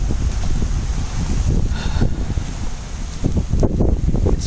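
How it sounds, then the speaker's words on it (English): Strong wind the morning after Hurricane Ian, with palm trees down and debris scattered: steady loud gusting roar buffeting the microphone, with surging rumbles rising and falling. "It's still too windy."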